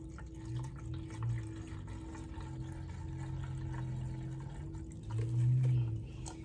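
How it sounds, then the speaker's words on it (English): Water poured into an Aerogarden hydroponic reservoir holding basil and lettuce, a steady low gurgling fill with rising splashy swells near the end, close and without talking. "I'm gonna add some water."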